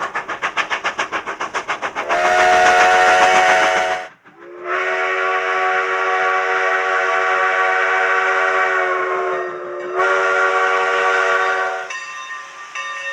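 Sierra Railroad steam locomotive No. 28 running, with rhythmic chuffing at first and then long, loud whistle blasts, one broken by a short gap.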